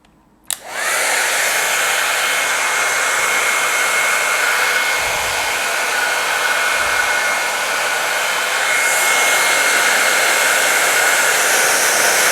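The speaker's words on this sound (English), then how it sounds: "So now that our hair is properly blow dried" Hair dryer blowing on natural hair, switching on abruptly after a brief quiet start and then holding a loud, steady whirring rush close by, with no talking.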